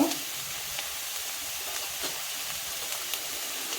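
Onions or similar sizzling and frying in a pan with turmeric and asafoetida stirred in, a steady close hiss with faint scraping, no voices.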